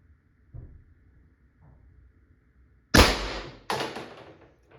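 A Pepperball VKS less-lethal launcher with an HP68 mock suppressor and power barrel, fired twice: two sharp, loud pneumatic pops about a second apart, each with a short hissing tail, after some quiet handling bumps.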